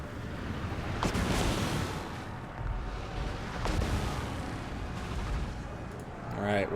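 Warp Lightning Cannon artillery in a Total War battle with Rat Ogres and Silver Helms: a constant churning battle din broken by a few heavy booms, fairly loud, with no clear talk over it.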